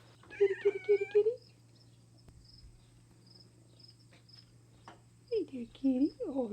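A blue-eyed farm cat meows in two bursts, a string of short cries and later a few longer drawn-out meows, close by, with crickets chirring steadily in the background.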